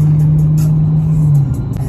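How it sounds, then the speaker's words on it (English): A Dodge Charger with worn brakes drives and slows, a steady droning rumble and road noise carrying a sustained low metallic scrubbing tone that shifts and fades as it decelerates. "once I'm slowing down, I hear metal scrubbing"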